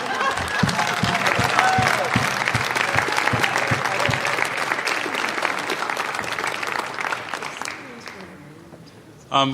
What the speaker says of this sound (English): Could we, one more time, some applause for all of the candidates